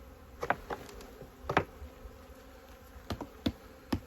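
Honeybees buzz steadily as they are shaken off hive frames in an apiary, a close, continuous hum broken by a few soft knocks and thumps.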